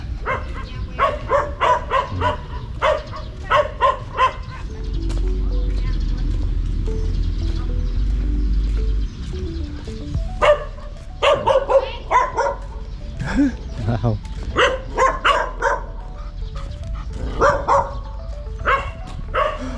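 A dog barks repeatedly in bursts near a cultural tourist site behind the great stupa in Vientiane, loud and close, with a steady low hum in the middle and people talking around it.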